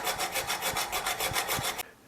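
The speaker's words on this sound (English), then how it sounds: "Now I'm going to cut a slot with the hacksaw." A hacksaw cuts a slot into a screw held in a vise, rapid back-and-forth rasping strokes in an even rhythm, about a dozen close, loud strokes before stopping abruptly.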